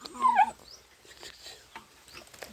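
A dog in a village setting gives a short, fairly close whimpering yip at the start, followed by quieter scattered high squeaks and rustling.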